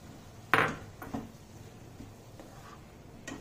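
Boiled quinoa being mixed with other ingredients in a bowl, a sharp utensil knock followed by a few softer scrapes and taps, close and quiet.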